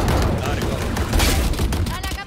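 Dense, continuous gunfire from the video game Valorant, rapid loud shots and bursts filling the whole stretch with constant impact noise.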